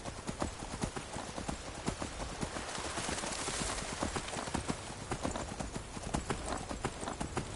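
Rapid, rhythmic hoofbeats of a galloping horse in the video game Skyrim, steady and close, with a continuous whoosh of movement underneath.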